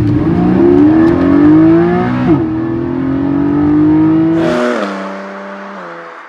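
A Porsche 718 Cayman GTS with the 4.0-litre engine accelerates hard, its engine note rising steadily through the gears with a brief dip at a shift, then backing off near the end. The sound is loud and close, with no talk.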